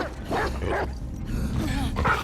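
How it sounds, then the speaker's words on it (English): A dog barks and yips in The Last of Us Part 2 video game, several close, loud barks mixed with game sounds. "I won't fight the dog."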